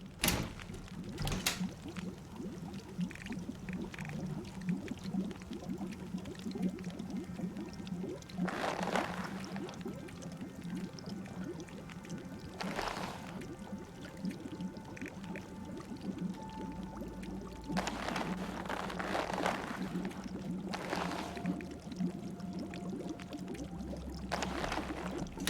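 Water in the survival video game The Long Dark at Forlorn Muskeg, a faint continuous trickling flow with a few brief louder splashing or pouring bursts, heard alone without speech.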